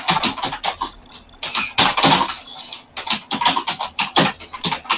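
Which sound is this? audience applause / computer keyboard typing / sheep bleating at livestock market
computer keyboard typing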